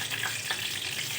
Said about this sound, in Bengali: তেল দিলাম, ফোড়ন দিলাম,